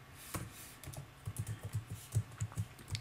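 Keys clatter on a computer keyboard in a quick, uneven run of soft close taps, quiet and alone with no talking.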